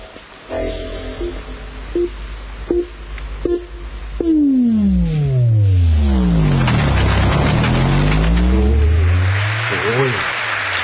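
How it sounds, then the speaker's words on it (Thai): A car audio system's bass box blasts test tones at high volume: a few short pulsed beeps, then loud sweeping tones that glide up and down through the deep bass, overlapping and crossing, ending in a harsh buzzy wash. "ขอเชิญคุณผู้ช่วยดรบูมช่วยเปิดเสียงทดสอบหน่อยฮะ"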